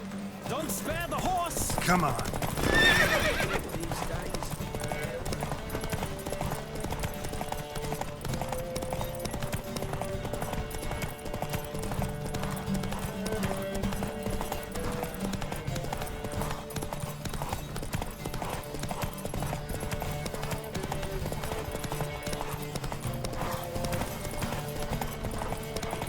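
Hooves clip-clop in a rapid, steady rhythm as a horse gallops through a race in The Witcher 3, with a louder burst near the start and a continuous game soundscape behind it.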